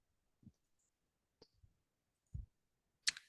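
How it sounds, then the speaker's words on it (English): Several soft, isolated mouse clicks sound close by with pauses between them as a complete button is pressed, the last click sharper and brighter. "We'll click on complete."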